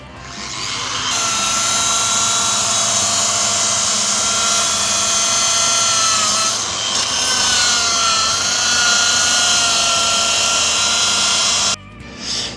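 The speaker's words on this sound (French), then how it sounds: "j'ai poncé, j'ai enlevé le brillant, je passe au 240." A power sander grinds the lens of a car headlight in a steady, loud, high-pitched whine that holds for about twelve seconds before briefly cutting out near the end.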